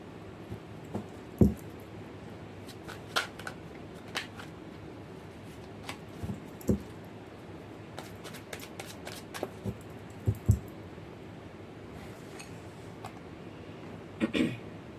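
Tarot cards shuffled and handled for a Capricorn horoscope reading, soft papery riffles and taps in scattered bursts against a quiet room, no talking.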